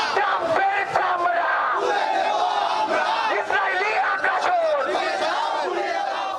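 A large crowd of protesters chants loudly in unison at a street rally in Bangladesh against Israel, demanding an end to the killing in Gaza. Many voices rise and fall together in a steady, unbroken roar.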